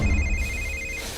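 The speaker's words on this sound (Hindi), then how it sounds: "ये ले, थारे बाप ने फोन मिला दिया।" A telephone rings in a home with a bright, repeated electronic trill, steady and fairly close, fading out toward the end, with no talk over it.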